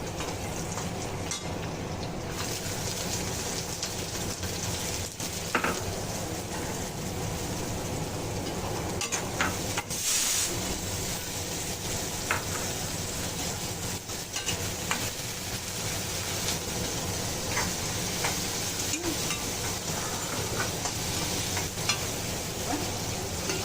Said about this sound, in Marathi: जिरा टाकूया, लसूण आणि कढीपत्ता, मग कांदा टाकूया।